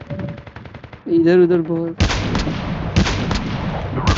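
NA-45 gunfire in Call of Duty Mobile rings out as loud, sharp bursts, mostly after a brief pause, mixed with game effects and a voice talking at the start.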